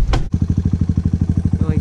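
A 2017 Suzuki DR200 with an FMF Q4 exhaust and Pirelli MT16 tires out on a trail: after a brief scuff, the single-cylinder engine settles into a loud, close, steady rapid thumping putt-putt.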